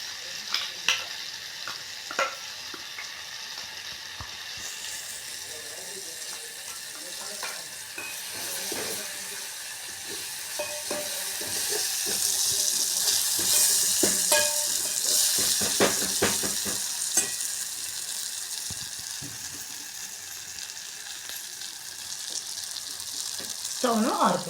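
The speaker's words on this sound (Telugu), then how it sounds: "ఇప్పుడు మనం మిక్సీ పట్టిన పదార్థాలను ఇందులో వేసి ఒక్కసారి కలుపుకుందాం." Ground chutney paste is stirred in a hot pan, giving scraping spoon strokes and soft sizzling that continue through the clip at moderate, close volume.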